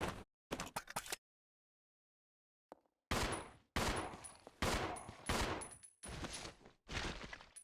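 Rapid pistol gunfire in Resident Evil 0, a short volley of close, loud shots, a quiet pause, then repeated bursts of sharp cracks continuing to the end.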